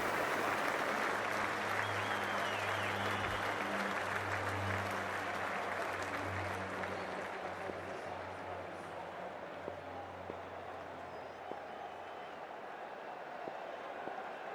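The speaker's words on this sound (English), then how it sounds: "We're about to get underway and already the crowd is up and about." Cricket crowd at a women's Hundred match between Manchester Originals and Oval Invincibles applauding as play gets underway, a dense sustained wash of clapping that holds steady and eases slightly toward the end, with a low drone underneath.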